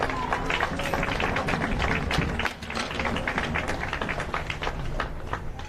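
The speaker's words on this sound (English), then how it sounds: "Big round of applause, guys!" Outdoor applause for Monterey County all-star girls' soccer players at a Salinas all-star game, steady scattered clapping from a crowd lasting throughout, with voices mixed in.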